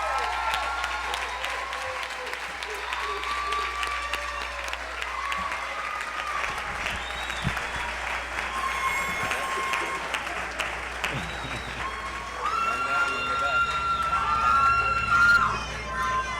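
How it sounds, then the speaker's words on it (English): Long, sustained crowd applause for graduates at a university undergraduate commencement ceremony, mixed with cheering, shouts and a constant hum from the hall, swelling louder toward the end. "Let's give a round of applause to the graduates of our undergraduate program."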